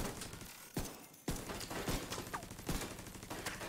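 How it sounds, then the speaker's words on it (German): An automated turret fires in The Division 2, sharp gunshots and rapid bursts cracking out at irregular intervals over a busy background of mechanical noise and clatter. "Dann schießt der Turm da drauf"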